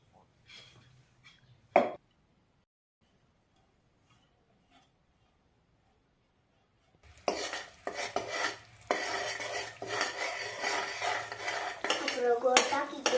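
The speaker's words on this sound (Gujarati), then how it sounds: "ગોળ ઓગરે ને ત્યાં સુધી આપણે હલાવીએ" Peanut chikki in the making: melting jaggery stirred in a pan, with a few sharp clinks early on, then a long stretch of dense, continuous scraping and clattering from about the middle to the end, loud and close.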